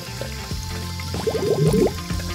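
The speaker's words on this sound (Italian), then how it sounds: "Immergi il gelato nell'acqua calda!" A piece of ice cream is dipped into hot water, giving a short burst of bubbling and gurgling liquid over a quiet background hum.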